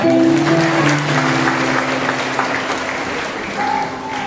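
An audience at a Monday prayer meeting and fellowship evening claps for the new singers. Steady applause fills the room, with a few voices and singing tones audible at the start and end.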